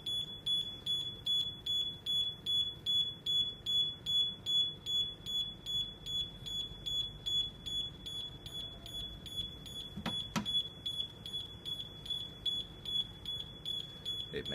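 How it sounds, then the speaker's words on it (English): A school lab gas safety cut-off alarm sounding continuously with a steady high-pitched pulsing beep, close and loud, with brief clunks partway through and no talking. "the alarm goes off and the valve shuts automatically"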